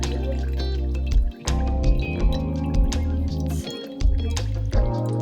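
Coconut water pouring from a drilled coconut, a steady close liquid flow with gurgling drips and small splashes, briefly interrupted a few times.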